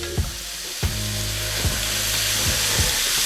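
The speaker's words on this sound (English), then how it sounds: "Sure all this gets coated with that butter. If you need more butter, add more butter. And then we're going to simmer this down" Mushrooms simmer in butter in a pan for beef stroganoff, giving a close, steady sizzle with a few soft stirring knocks, with no voices.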